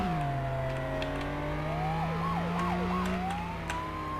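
A police siren in the video game Flashing Lights wails, rising and falling over a steady engine drone, shifting into quick yelping sweeps midway, loud and continuous throughout.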